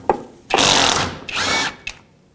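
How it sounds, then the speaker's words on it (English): A power tool with a 12mm socket and extension removes a sway bar bushing clamp bolt on a 2012-2017 Toyota Camry, whirring in two sustained bursts separated by short pauses, loud and close, with a clicking start and a brief rattle at the end. "let's take a 12mm socket with an extension and remove that bolt that clamps it down"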